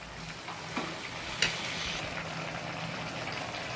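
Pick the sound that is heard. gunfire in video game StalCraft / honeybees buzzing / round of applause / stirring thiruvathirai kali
stirring thiruvathirai kali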